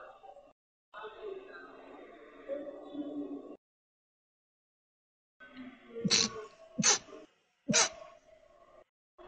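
Several short, sharp sneeze-like bursts come in quick succession, with breathy vocal sounds and silences between them, close to the microphone.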